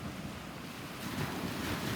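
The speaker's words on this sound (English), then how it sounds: "So this is the mouth of the Alubijid River." Waves washing in at the mouth of the Alubijid River on a beach where fishing boats sit, a steady low rushing surf mixed with wind buffeting the microphone, growing slightly louder toward the end, with no talking.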